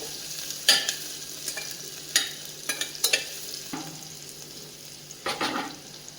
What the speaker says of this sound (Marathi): यामध्ये बारीक चिरलेला कांदा घालून घेऊयात आपण कांदा थोडासा गुलाबीच्या रंगावरती परतून घेऊयात